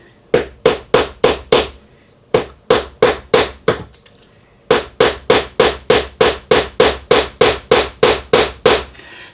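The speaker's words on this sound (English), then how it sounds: "I put it on a block of metal now, and then I just very lightly rivet it over" Light hammer blows rivet over the end of a hinge pin resting on a metal block, in three quick rhythmic runs of sharp, ringing taps, loud and close, with short pauses between bursts.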